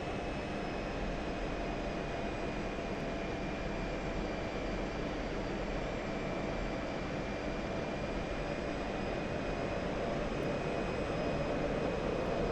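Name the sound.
F-16 Viper jet engine throttling down in a flight-simulator video game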